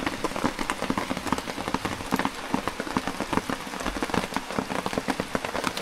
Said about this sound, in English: Guess we didn't have as long with light rain as I thought.